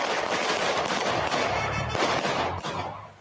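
Rapid police gunfire in a Bath Beach neighborhood as officers confront a knife-wielding suspect, a dense continuous barrage of shots sounding loud and sustained for several seconds, then easing slightly at the end.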